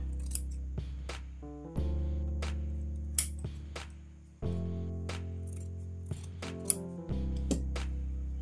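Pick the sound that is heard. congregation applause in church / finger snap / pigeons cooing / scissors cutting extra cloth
scissors cutting extra cloth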